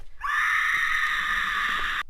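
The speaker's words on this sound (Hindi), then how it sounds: "तभी पेड़ में से एक जोरदार चीख निकली।" Loud shrill scream erupting from a tree as a horror story sound effect, a single sustained piercing wail holding for nearly two seconds before cutting off abruptly.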